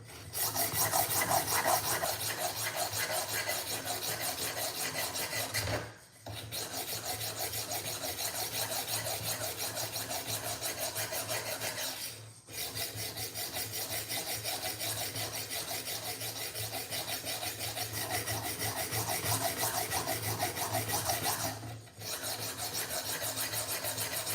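A Benchmade knife is sharpened with a continuous rapid rasping, scraping rhythm that runs steadily and closely, broken by three brief pauses.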